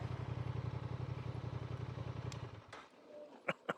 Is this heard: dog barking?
no